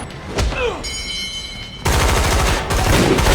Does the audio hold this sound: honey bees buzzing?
no